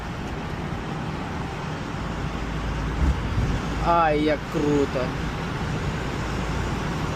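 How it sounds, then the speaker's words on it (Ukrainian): Car engines rumble and echo steadily inside a short road tunnel as a vehicle drives through, with a wash of traffic noise throughout and a brief excited voice in the middle. "Звук мотора кожної машини чутно"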